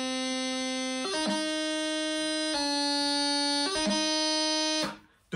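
Bagpipe chanter playing a G strike on D movement at full speed: a steady reedy tone broken by several quick grace-note cuts, solo and close, ending abruptly.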